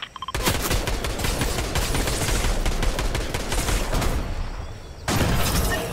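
Rapid, sustained gunfire in the Fortnite Zero Build battle royale, dense automatic bursts firing almost without pause, loud and close, with a brief break near the end before the shooting resumes.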